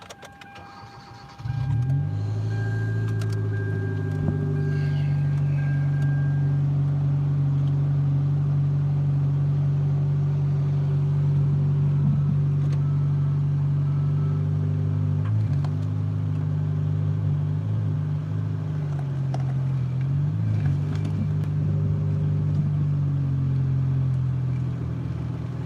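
Car engine idling steadily at a Copart salvage auto lot, starting up after a brief quieter moment and then holding a loud, even low hum throughout with no talking.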